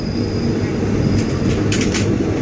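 A passenger train runs on rails in Thailand, sounding as a steady, loud rumble and rattle heard from inside, with faint clatter and brief higher rattles near the end, and no clear talk.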